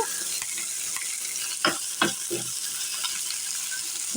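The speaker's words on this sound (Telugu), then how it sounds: "ఈ ఉల్లిపాయ తరుగును కూడా చక్కగా అటు ఇటు తిప్పుకుంటూ ఇలా ఫ్రై చేసుకోవాలి" Chopped onion fries in a pan for a tamarind-leaf and fresh coconut curry, a soft steady sizzle broken by a few sharp scrapes as it is turned back and forth, close up with no voices.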